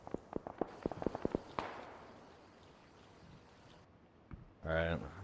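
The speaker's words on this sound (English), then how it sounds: "I can't see where those shots are coming from" Distant gunshots crack in PUBG, a quick burst of sharp reports in the first couple of seconds, faint and far off, followed by quieter ambience and a short louder noise near the end.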